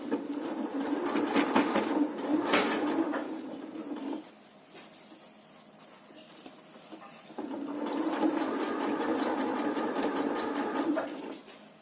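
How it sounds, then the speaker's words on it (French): A sewing machine stitches fabric under the presser foot with a fast, steady mechanical whir up close. It pauses briefly in the middle, then resumes at the same even pace. "Et on vient bien coudre le pied presseur au bord du tissu"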